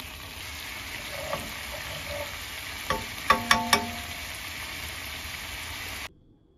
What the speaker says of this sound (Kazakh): Қаймақтай сармайды ерітіп аламыз.